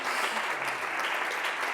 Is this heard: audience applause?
yes